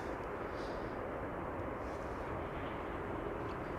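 A KLM airliner arriving at Amsterdam Schiphol Airport gives a steady, broad distant jet roar that holds at an even level throughout, with no voices.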